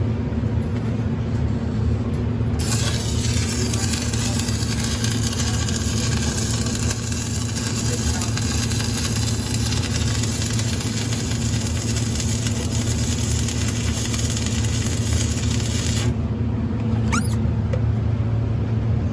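A continuous, loud arc-welding crackle as a bead is laid with circular motion, starting abruptly a few seconds in and holding steady for about thirteen seconds before cutting off, over a constant background hum.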